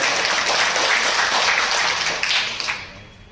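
Crowd applause fills a community hall gathering as an audience welcomes a guest, a dense, steady wash of many hands clapping that thins and trails off near the end.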